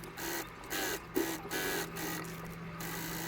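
A sewing machine stitches the lining and bodice of a toddler's pinafore dress, running in short steady bursts with brief pauses between them, close and fairly quiet with a low constant hum underneath.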